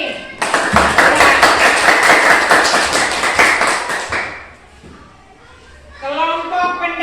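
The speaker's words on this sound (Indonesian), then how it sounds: "tepuk tangan untuk Kevin" A classroom of children claps together in a dense, sustained burst of applause that fades out, followed by a teacher's voice speaking.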